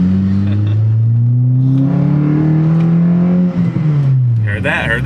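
A tuned 2015 Honda Civic Si with a Hondata tune accelerates through the gears, its engine note climbing steadily and loudly up close, then dropping at a shift near the end, heard from inside the car.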